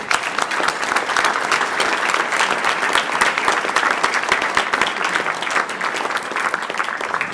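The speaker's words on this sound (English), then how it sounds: "Let's give them a round of applause, please." An audience claps in sustained, dense applause at a political event, loud and steady for several seconds with no voices over it.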